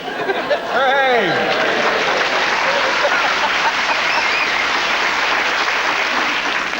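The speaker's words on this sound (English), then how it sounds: "You get applauded for catching a jelly baby." A television studio audience on a topical news quiz panel show breaks into loud, sustained applause that holds steady for several seconds, with a brief whoop at the start.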